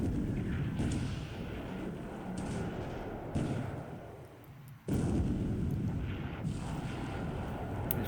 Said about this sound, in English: So, 36 centimeter or 14-inch shell hit.